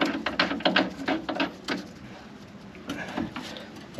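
Metallic clicks, taps and ratcheting knocks as a bolt is worked back into a camper van gearbox, a quick cluster of sharp hits followed by quieter scattered clinks.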